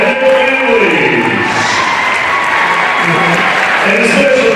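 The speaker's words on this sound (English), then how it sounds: "Let's have one more big round of applause for our 2026 senior class and their families." A gymnasium crowd at a high school wrestling meet gives a loud, sustained round of applause for the senior class and their families. The dense clapping runs steadily throughout with some background voices.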